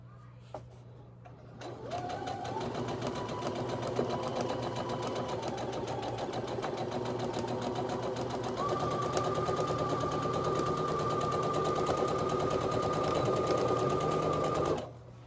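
Sewing machine running steadily as it stitches the back seam of a gathered skirt, a close, continuous mechanical whir and rapid needle chatter that starts after a brief pause and holds for over twelve seconds before stopping.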